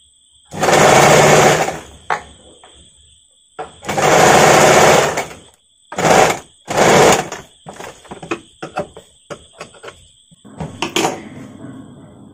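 An electric sewing machine stitches a padded princess-cut blouse in several loud, whirring bursts of a second or two each, then short stop-start runs, with pauses and handling clicks between.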